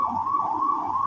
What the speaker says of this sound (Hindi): that's an ambulance going